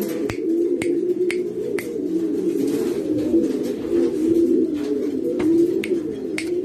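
A loft of breeding pigeons in Sagua keeps up an unbroken, soft rolling coo, several birds overlapping nearby, while regular sharp ticking clicks sound on top.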